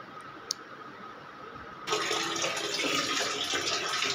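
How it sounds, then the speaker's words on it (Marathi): Water runs from a tap into a bathtub in a bathroom, a steady broadband rush that starts abruptly partway through after a quiet moment with a small click, continuing loud and close to the end. "पाणी पण भरलं आहे टॉपमध्ये"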